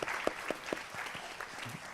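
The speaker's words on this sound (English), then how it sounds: "Please give him a round of applause." Audience applause for a flutist at a Bharatanatyam arangetram dance recital, a dense even patter of clapping from a seated crowd with a few louder individual claps standing out.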